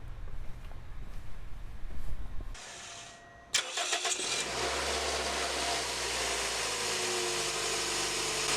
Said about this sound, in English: it's time to start the car